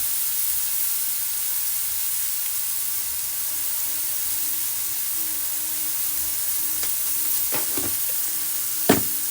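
Paneer and bottle gourd, seasoned with salt and black pepper, sizzle steadily in a kadhai as a soft continuous fry hiss, with a few brief clinks and a sharper scrape near the end as the mixture is tossed.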